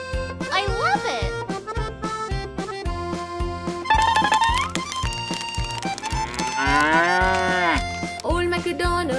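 Cows moo repeatedly in the Old MacDonald farm song of a Cocomelon children's video game, mixed with bouncy music and a sung melody throughout.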